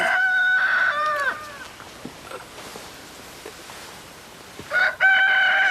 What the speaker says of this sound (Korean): 첫 닭이요.